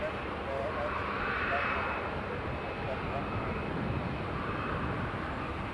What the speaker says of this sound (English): got an EasyJet coming in